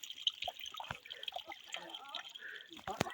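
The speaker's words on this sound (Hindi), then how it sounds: "ये इस जगह से पानी निकल रहा है।" Water trickles and drips out of a natural spring on a visit in Azad Kashmir, soft and close, with scattered splashes and faint background noise.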